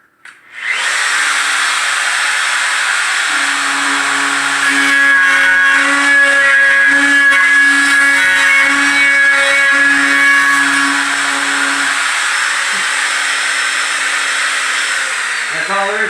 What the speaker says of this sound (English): Now all I gotta do is route this out so that the bolt, well, wherever that is, fits in smoothly.